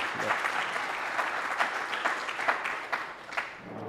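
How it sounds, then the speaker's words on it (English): A room full of people applauds, a sustained wash of clapping with individual claps popping out near the end. "A round of applause."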